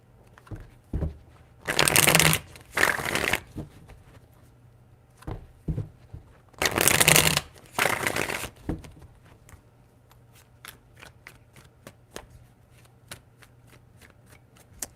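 A tarot deck shuffled by hand in three bursts, crisp riffling bursts around two seconds apart in two groups, with soft taps and card handling in between in a quiet room.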